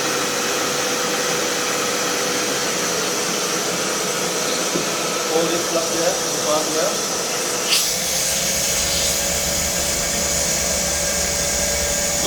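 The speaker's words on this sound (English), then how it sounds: "next thing you need to do, use this wet and dry vacuum" A wet and dry vacuum runs continuously, pulling debris out of the drain pipe of a leaking Mitsubishi Starmex aircon, a steady loud whine and hum with brief gurgling rattles partway through, while a person talks over it.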